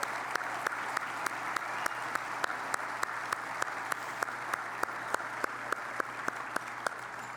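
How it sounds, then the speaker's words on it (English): Steady applause from diners at an award dinner, a dense even wash of clapping heard at a moderate distance, with a few louder individual claps standing out near the microphone. "So please, a round of applause for Michelle and Tommy."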